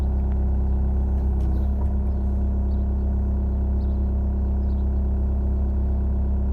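A Kubota excavator fitted with a tiltrotator idles on low revs, a steady close diesel rumble with a constant low hum and no speech.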